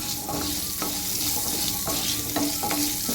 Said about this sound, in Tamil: ஒரு நூற்றம்பது கிராம் சின்ன வெங்காயம் எடுத்துக்கலாம் இது நல்லா கலர் சேஞ்ச் ஆகிற வரைக்கும் ரோஸ்ட் பண்ணணும்